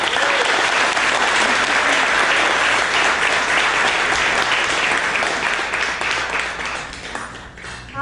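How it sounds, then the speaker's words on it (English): Loud, sustained applause from a large audience at a company anniversary event, dense clapping filling the room for several seconds before tapering slightly at the end. "So please give them a big round of applause."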